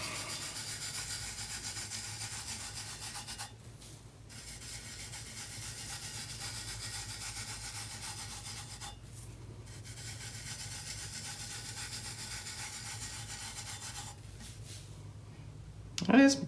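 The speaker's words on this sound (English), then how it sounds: "and we start burnishing" Two or three fingers burnish a spray-painted color shift glitter tumbler by hand, making a steady dry rubbing hiss that runs almost continuously, with brief pauses near four and nine seconds.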